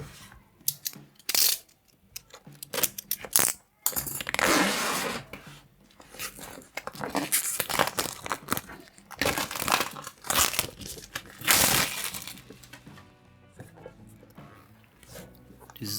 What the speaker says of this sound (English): let me just remove this plastic film here